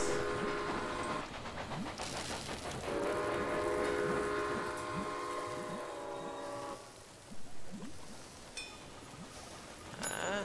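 Train running in Railway Empire, a rolling rail clatter and rumble with sustained steam whistle blasts layered over it, then lighter clanks toward the end, no talk.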